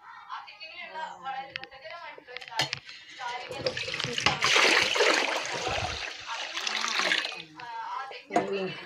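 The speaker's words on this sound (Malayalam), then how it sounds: "ആ ചെരുവത്തിന് ഒരു പാത്രം വെള്ളം ഒഴിക്കണം" Water pours and splashes into a cooking pot while coconut rice is made in a home kitchen, a rushing, bubbling stream lasting several seconds, with someone speaking before and after it.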